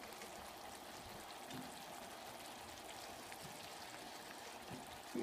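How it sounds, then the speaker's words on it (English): Homemade barbecue sauce coming to a boil in a pot gives a faint, steady bubbling and sizzling hiss with occasional small pops throughout. "So as you can see, it's coming to a boil."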